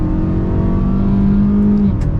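A Mazda CX-5 Preferred's engine pulls hard at full throttle on a rainy road, a loud steady drone with a tone that climbs slowly, heard from inside the cabin with no talking.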